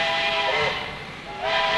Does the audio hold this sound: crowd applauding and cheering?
no